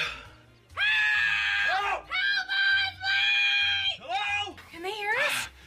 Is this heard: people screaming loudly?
yes